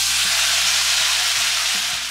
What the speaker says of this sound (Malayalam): ഇനി നമുക്കിതിലേക്ക് മെയിൻ ആയിട്ടുള്ള നമ്മുടെ ചവരി ചേർത്ത് കൊടുക്കാം.